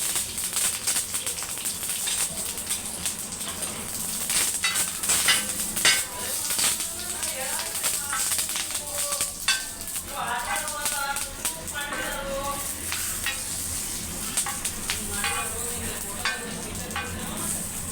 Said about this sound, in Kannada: ಇದು ಹಂಚೊಳಗೆ ಒಂದು ಸ್ವಲ್ಪ ಚಟ್ನಿ ಒಗ್ಗರಣೆ ಕೊಟ್ಬಿಡ್ತೀನಿ.